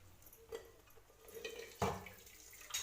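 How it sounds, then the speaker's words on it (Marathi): Hot water poured into a pot of boiled eggs in a home kitchen, heard as faint splashing and trickling with a few louder sloshes and clinks, quiet and close, with no voices. "त्याच्यात गरम पाणी टाकूया।"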